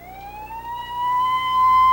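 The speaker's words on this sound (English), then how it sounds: "Ambulance sirens announce the casualties." An emergency siren rises in a smooth upward wail and grows louder as it approaches, heard alone without talk on a late-1980s Detroit street.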